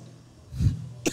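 A single sharp cough, close and fairly loud, followed moments later by a shorter, quieter throat sound.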